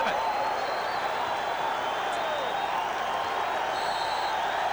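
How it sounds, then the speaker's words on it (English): A big arena crowd roars steadily at a 1991-92 NBA regular-season game between the Chicago Bulls and New Jersey Nets, a continuous wash of cheering and noise at a timeout. "listen to this crowd"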